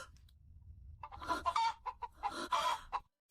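A chicken clucks nearby in a quick run of short, throaty calls after a second of near-quiet.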